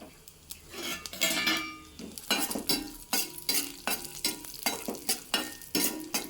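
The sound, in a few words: mustard seeds and cashews frying in oil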